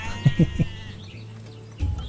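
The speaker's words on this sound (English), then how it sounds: "It looks like these sheep are taking all of their food" Sheep in the Stonehearth video game bleat three times in quick succession near the start, then once more near the end, with quiet ambient game music droning between the calls.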